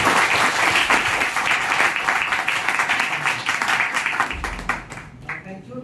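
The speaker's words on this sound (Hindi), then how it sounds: "चलो एक बार जोरदार तालियां।" An audience gives strong applause at the close of an academic literature lecture, with loud, dense clapping that gradually thins and fades out near the end.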